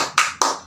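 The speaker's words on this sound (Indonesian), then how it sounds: "kita tepuk semangat dulu ya" A rhythmic spirit clap in a classroom, two sharp hand claps in quick succession, close and loud.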